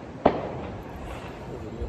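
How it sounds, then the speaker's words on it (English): One sharp firework bang goes off from a rooftop in San Juan, Puerto Rico, a single loud crack followed by a fading rumble, with a voice talking faintly over it. "fireworks going off."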